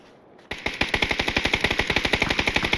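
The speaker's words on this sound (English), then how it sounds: "So here come the shots from Luke 12" Sustained automatic gunfire from a PUBG match, a rapid, evenly spaced burst of loud shots that starts abruptly and runs unbroken to the end, close and clear with no talk over it.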